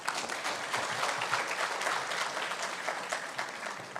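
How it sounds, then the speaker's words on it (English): Warm audience applause at a middle managers' leadership conference, a steady dense patter of many hands clapping for several seconds at moderate volume with no voices over it. "I think she deserves a warm round of applause"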